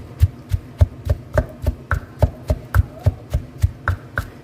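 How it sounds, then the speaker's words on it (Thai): Pestle pounding mushroom chili paste ingredients in a mortar, a steady rhythm of about twenty dull thuds over several seconds, close and loud with no talk. "ก็จะโขลกรวมกันให้ละเอียดนะคะ"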